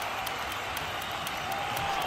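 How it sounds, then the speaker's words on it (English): A large stadium crowd at a speedway meeting roars steadily for the home team, a continuous dense wash of noise with faint regular pulses that suggest rhythmic chanting underneath. "Listen to the roar, listen to them trying to push their member forward"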